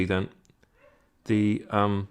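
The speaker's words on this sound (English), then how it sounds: "Sorry for the barking dog in the background." A dog barks in the background, a few loud yelping barks in two bursts separated by a short quiet gap, close and prominent.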